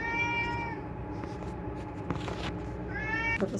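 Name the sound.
cat meowing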